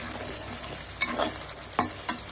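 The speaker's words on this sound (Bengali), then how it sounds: "এখন এটাকে আমি খুব সুন্দরভাবে কষাবো" Beef with ginger-garlic paste, cinnamon, cardamom and bay leaves stir-fries in a pan, a steady close sizzle punctuated by three sharp scraping stirs of the spatula, with no talking.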